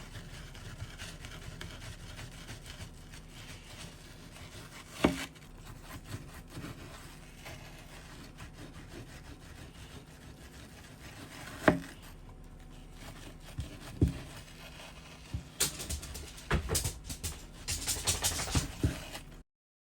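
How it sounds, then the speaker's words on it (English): Knife chopping a cold, partly frozen block of food into cubes on a board, a few sharp distinct cuts spread out, then a busier run of quick chops near the end over steady kitchen background noise. "And you just chop it into cubes."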